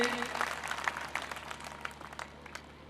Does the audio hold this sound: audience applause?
yes